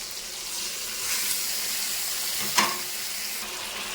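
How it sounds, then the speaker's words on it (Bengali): Spice paste hits a pan of softened frying onions and tomatoes, giving a steady close sizzle with a sharper hiss and crackle burst near the end, no talking. "এবার দিয়ে দেবো পেস্ট করা মশলাটা"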